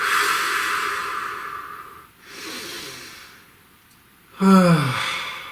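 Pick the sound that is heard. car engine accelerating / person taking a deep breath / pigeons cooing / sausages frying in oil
person taking a deep breath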